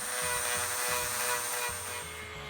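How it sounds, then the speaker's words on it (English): Dremel rotary tool with a sandpaper attachment grinding a deadbolt faceplate, a close, continuous whirring hum with a rough, pulsing low rumble from the sanding contact. "Now with the Dremel tool, I've got sandpaper on the end of it, and we'll grind this to the shape that we need."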